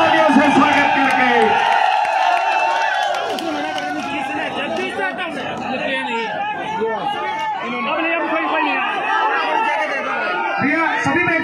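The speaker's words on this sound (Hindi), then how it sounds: "सभी जोरदार तालियों से स्वागत करके" A large crowd at a Bhim Army rally cheers, whoops and shouts in welcome for Chandrashekhar Azad, a loud, continuous roar of many voices.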